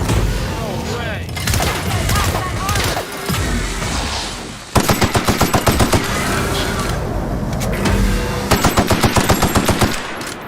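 Automatic weapons in the sci-fi game The Outer Worlds fire close and loud, with sustained rapid bursts and staccato volleys that keep breaking out across the clip amid combat noise.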